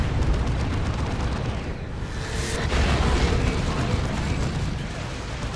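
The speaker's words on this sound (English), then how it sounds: "Oh, he's taking las cannon shots though now." Lascannon fire and explosions in the Warhammer 40,000: Dawn of War 2 video game, a dense loud barrage of blasts and rumbling bursts with a sharp crack midway.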